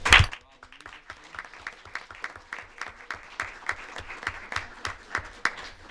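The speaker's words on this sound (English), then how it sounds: "one more time, ladies and gentlemen, help me give a round of applause." Audience at a student staff recognition ceremony breaks into sustained applause, a dense steady patter of many hands clapping that starts with a sharp burst and continues evenly throughout.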